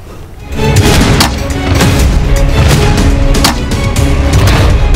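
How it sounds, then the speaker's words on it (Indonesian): Mortar rounds launched by Mujahidin Brigades fighters toward troop positions near Khan Yunis, a series of heavy booming blasts and thuds repeating over several seconds amid constant rumbling. "rekaman Brigade Mujahidin yang melancarkan tembakan mortir ke arah kumpulan pasukan musuh di daerah Ma'an Khan Yunis"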